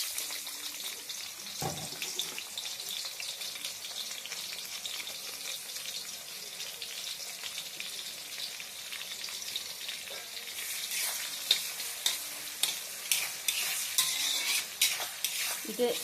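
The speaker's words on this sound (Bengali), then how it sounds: "তেলটা একটু গরম হলে দিয়ে দেবো পেঁয়াজ।" Onions frying in hot oil in a pan for pasta, a steady close sizzle with scraping stirring strokes growing more rhythmic toward the end, no one speaking.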